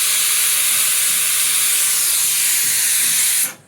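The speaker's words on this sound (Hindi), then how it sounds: "तो कुकर में सीटी बजा दी है।" A pressure cooker cooking rice vents steam in a loud, steady, high hiss that holds for over three seconds and then cuts off abruptly.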